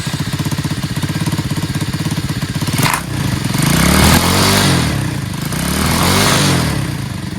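A Tao Tao 125cc Chinese ATV quad with a new carburetor and ignition switch fires up and runs close by, a buzzing idle giving way to a couple of rising revs and falling back, loud and alone.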